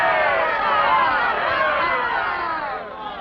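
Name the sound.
crowd cheering for the town councillors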